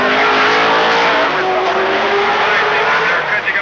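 Trans Am race cars at Laguna Seca in 1982, engines roaring loud and close as they power out of a turn, a dense continuous wall of engine noise and tire sound with commentary underneath.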